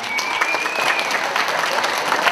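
A stand-up comedy audience claps steadily at a joke prompt, a dense and fairly loud burst of applause that holds throughout with no voice over it.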